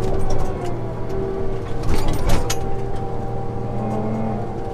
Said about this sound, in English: Let's rev her up.